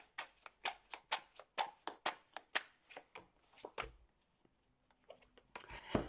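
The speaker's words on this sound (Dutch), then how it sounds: "De kaarten schudden om te kijken wat deze week voor jou gaat brengen." A deck of tarot cards being shuffled up close, a rapid run of crisp riffling flutters in steady rhythm, then a pause and a few softer taps before another burst, with no talk.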